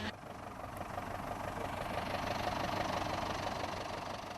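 A tractor engine runs steadily in a rural farming area, a continuous rumbling drone close by with no speech.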